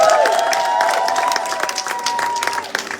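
A church congregation applauding and cheering at an international conference in France, dense close clapping from a crowd with raised voices and whoops on top, starting loud and thinning slightly toward the end.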